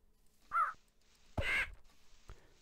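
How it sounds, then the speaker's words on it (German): Raven in the Minecraft Twilight Forest video game giving three harsh, hoarse caws at irregular spacing, the second longest and loudest, heard alone against a quiet background. "Da müssen wir ein paar Raben für die... Ich sehe einen Rabe."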